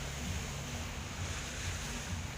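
Steady wash of sea waves with a constant roar of surf and wind, continuous and fairly loud, no voices.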